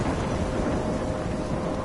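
In the game Life is Strange, a thunderstorm rumbles under heavy, steady rain, forming a continuous dense wash of low roar and patter with no voices.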